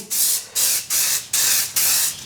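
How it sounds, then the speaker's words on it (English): Black spray paint hissing from an aerosol can onto a Willys front crossmember in a workshop, four steady loud bursts in a regular rhythm, each about a third of a second, with short gaps between. "You're gonna take a little bit of black spray paint on the top."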